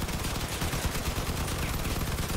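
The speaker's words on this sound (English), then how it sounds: "I'm shooting." Rapid automatic weapon fire in the vehicle combat game Crossout, a dense continuous burst of shots that holds steady throughout, with no voices over it.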